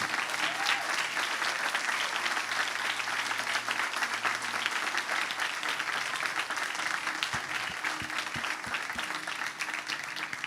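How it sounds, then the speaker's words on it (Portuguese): Steady congregation applause during a church service, broad continuous clapping across the room at moderate level, with a low hum and faint background sounds underneath and no speech. "eu queria que você desse um forte aplauso ao Senhor pela vida deles"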